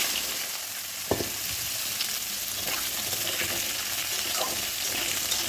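Drumstick vegetable sizzles in oil left over from frying fish, a steady close hiss broken by a sharp clack near the start and light stirring scrapes, with no talking.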